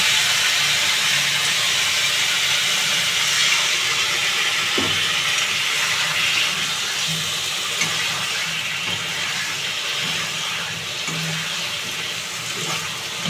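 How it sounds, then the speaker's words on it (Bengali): Spice paste for eggplant curry sizzles in a pan as small splashes of water are added, giving a steady loud hiss with a few faint clinks from stirring. "এবার অল্প অল্প জল দিয়ে ভালোভাবে মশলা কষিয়ে নেব।"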